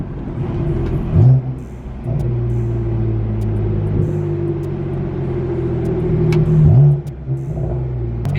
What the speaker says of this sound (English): Nothing better than a couple downshifts.